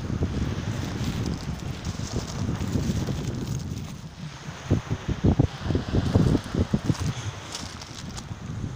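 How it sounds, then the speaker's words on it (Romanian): Wind gusts over Corbu beach on the Romanian Black Sea coast, a steady rushing roar with louder buffeting bursts against the microphone in the second half, no voices. "deși bate vântul"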